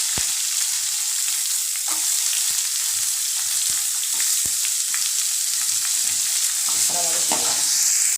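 Onions sizzle loudly in a hot pan while a utensil scrapes and clacks against it in irregular strokes, close up.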